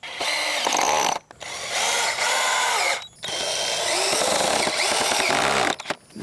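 A power drill whines in three long bursts with brief pauses, driving screws into the pocket holes of a wooden rabbit hutch, loud and close.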